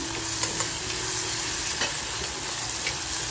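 Onion and garlic frying on full flame for a spicy mutton masala, a dense close sizzle with a few stirring taps, brief and without speech.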